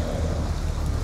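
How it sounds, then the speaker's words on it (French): Heavy rain pours down in big drops over a car, a Fiat Punto, as a dense, loud, steady roar that fills the whole moment without any voices. "Il pleut à grosses gouttes."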